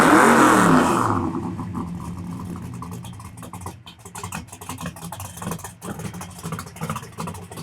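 A 1969 Chevelle Super Sport engine roars loudly through its exhaust at first, then settles into a lumpy, rumbling idle with sharp clicks and pops throughout.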